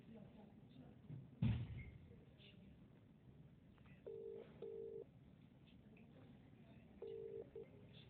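A phone number is dialed on a telephone keypad, with short paired DTMF beeps in two small bursts after a brief thump, faint under a low background hiss.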